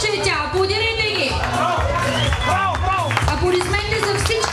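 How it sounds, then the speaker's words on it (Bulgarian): Crowd applause and cheering fill the hall at a beauty pageant, continuous and loud, with music and an announcer talking over it. "Аплодирайте ги."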